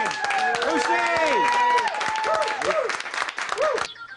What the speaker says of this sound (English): Let's give a nice round of applause to the woman of the hour.